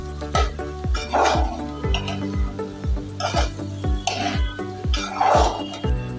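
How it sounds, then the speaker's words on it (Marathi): Veg fried rice with black pepper is sautéed in a pan, with rhythmic scraping and clattering strokes of a spatula against metal. The strokes come at a regular pace over a soft, continuous sizzle. "हे परतवून घेऊया."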